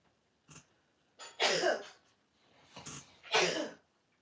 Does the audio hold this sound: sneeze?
yes